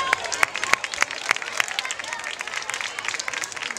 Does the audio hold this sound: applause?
yes